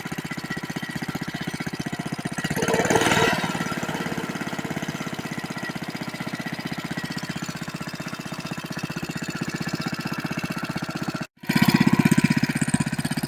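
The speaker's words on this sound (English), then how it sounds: "Well, it runs, but it" A worn Briggs and Stratton 6S small engine runs steadily with a close, buzzy rapid putter, smoking and blowing oil out an exhaust with no muffler; the drone swells briefly, cuts out for an instant, then resumes louder.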